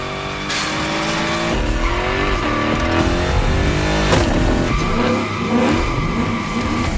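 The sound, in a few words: car doing victory donuts, tires skidding, in video game The Crew Motorfest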